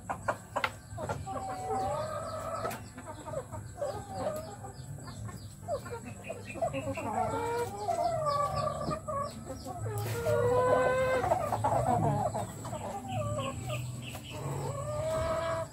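Native and heritage chickens cluck and chatter continuously close by while pecking at ipil-ipil leaves, with repeated short calls and occasional louder squawks over a steady outdoor background.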